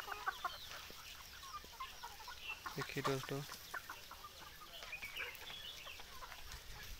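Free-range desi chickens on a village poultry farm cluck and call intermittently in the background while someone talks over them, the birds moderately close but fairly quiet.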